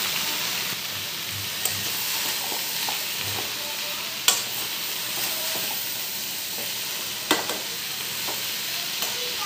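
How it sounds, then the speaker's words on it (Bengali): Ridge gourd curry sizzles steadily in a pan as it is stirred, a constant frying hiss with several sharp scraping knocks of the spoon against the pan. "নেড়ে নিই"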